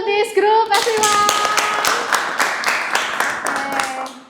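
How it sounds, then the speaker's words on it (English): A room full of people claps for a presenting group, a dense burst of hand claps that follows a short stretch of voices and then thins out toward the end. "Big applause to this group, everyone."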